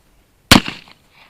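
A single sharp shot from an Uberti 1849 Pocket cap-and-ball revolver, a loud close crack with a brief fading tail, set between moments of silence.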